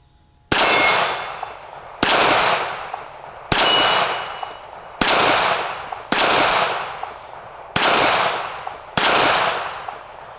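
A Smith and Wesson Bodyguard 380 micro pistol fires Winchester .380 ammunition outdoors, seven loud sharp shots spaced about a second and a half apart, each with a decaying echo.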